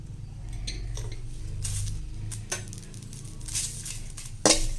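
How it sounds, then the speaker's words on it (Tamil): Curry leaves go into a pan and roast dry for idli podi, giving a soft crackle and rustle with faint metallic clinks of a spoon against the pan, close and alone without talk. "இப்போ இந்த கருவேப்பிலை போட்டுடலாம்."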